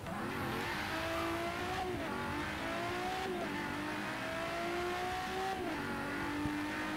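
A car in Forza Horizon 3 accelerating hard at full throttle, its engine note rising repeatedly through gear shifts, loud and close with no talk.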